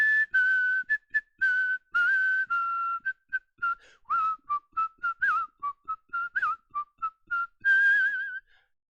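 A person whistles the Kill Bill tune alone, a series of clear, close pitched notes in a halting rhythm of short and sustained tones, with no talking.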